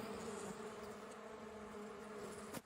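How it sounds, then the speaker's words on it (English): Thousands of bees hum together in one dense, steady buzz that stays even and continuous at a close, moderate level, with no voices. "Thousands of these bees all together working in harmony."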